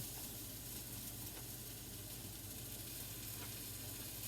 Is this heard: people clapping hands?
no